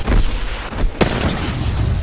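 Grenade explosion in the Apex Legends video game during a battle royale match, one loud booming blast with a sharp crack near the end, heard alone without talk.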